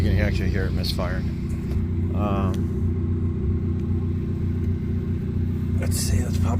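The 2.0L turbo engine of a 2013 Cadillac ATS idles roughly with a misfire, a continuous low rumble with uneven pulses, while a person speaks over it nearby.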